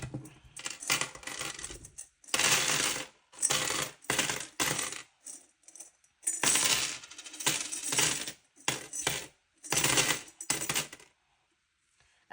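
Many coins, mostly small copper ones, poured into a piggy bank in a series of bursts. Each burst is a loud metallic clatter and jingle, separated by short pauses, with no talk.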